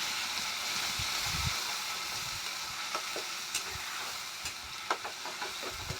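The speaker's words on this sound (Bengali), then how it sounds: "পেঁয়াজটা আমরা লাল লাল করে ভেজে নেব।" Onion paste fries over a low gas flame, giving a steady soft sizzle and hiss with occasional stirring clicks and scrapes of a spoon in the pan.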